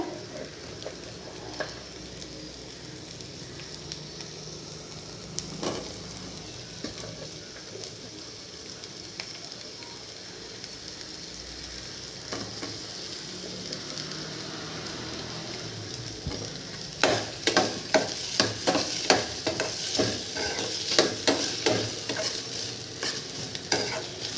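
Green tomato and okra fry in a pan with a soft, steady sizzle, stirred with occasional spoon scrapes. The stirring grows busier and louder toward the end, a rapid run of close clatter.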